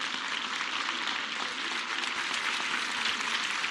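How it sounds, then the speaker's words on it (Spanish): A crowd applauds the secretary of public works at the visit to a newly built school site, a steady dense clapping that holds evenly throughout without voices. "Un aplauso al secretario de Obras que la construyó"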